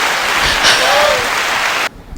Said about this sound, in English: Everybody has to clap for that one